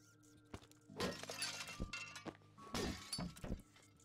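Ceramic dishes shattering in the video game Unpacking: two loud, close crashes about two seconds apart, each a bright burst of breaking crockery with clinking fragments trailing off, and no talking over them.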